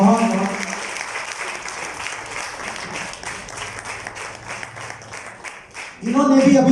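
An audience at a Hindi poetry gathering (kavi sammelan) claps steadily in the background, while a voice speaks over the applause near the start and again at the end.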